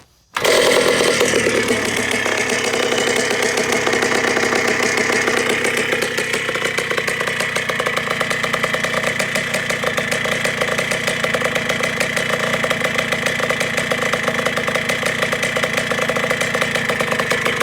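A cold 1978 Honda CR125 Elsinore two-stroke motorcycle engine catches on a kick start and settles into a loud, steady idle that runs close and uninterrupted, with no talking.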